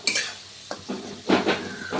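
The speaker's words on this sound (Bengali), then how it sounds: "পরিমাণ মতো নুন দিয়ে একটু নাড়াচাড়া করে নেব" A spoon scrapes and clinks against a pot as onions are stirred with salt for doi katla curry, a few short separate strokes with light sizzling between them, close and with no talk.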